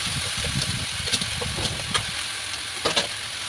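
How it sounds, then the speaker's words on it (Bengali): Malabar spinach with pumpkin, potato, ginger paste, turmeric and green chilies stir-fries in a pan, giving a continuous moderate sizzle with a few soft stirring scrapes. "নাড়াচাড়া করে নিচ্ছি। মশলার সাথে সবজিটা কষিয়ে নেব।"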